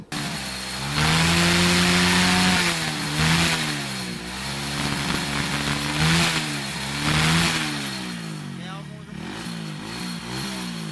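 A small engine runs after carburetor tuning while smoking from overfeed, its idle rising and falling through several revs up close, with someone talking over it.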